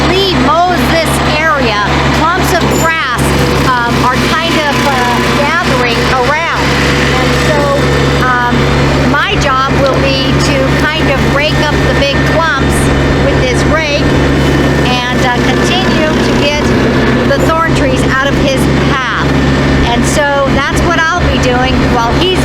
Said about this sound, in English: As you can see, as Lee mows this area,